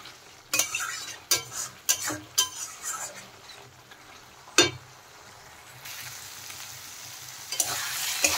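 Chicken is stirred into a spice masala for Bengali chicken gugni. A spoon scrapes the pan in several separate strokes, one sharp clank follows, and a soft sizzle fills the gaps and swells toward the end.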